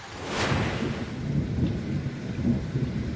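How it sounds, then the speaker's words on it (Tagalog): Heavy thunder rumbles low and steady through a thunderstorm in Samal, Bataan, with a brighter crack early on and rain hissing underneath, no voices. "Malalakas na kulog at kidlat naman ang naranasan sa Samal, Bataan."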